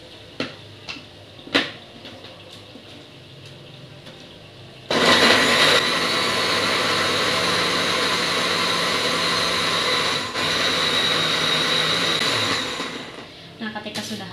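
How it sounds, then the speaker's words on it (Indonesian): An electric blender grinds spices for an Indonesian sayur krecek dish until smooth, roaring loudly and steadily for about eight seconds after a few quiet knocks, then winding down near the end. "Lalu kita haluskan dulu sampai halus."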